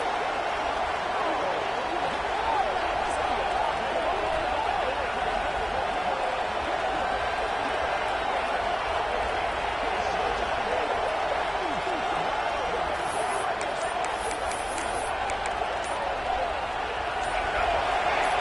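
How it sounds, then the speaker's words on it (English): A packed football stadium crowd at a national championship game between Michigan and Notre Dame roars steadily, a dense, continuous wash of cheering that holds level from start to finish. "And wow, listen to this crowd noise"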